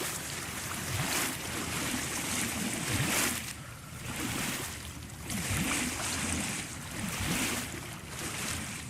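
Water rushes through a giant toilet flusher in the video game POOLS, a continuous loud wash that swells and recedes in slow surges.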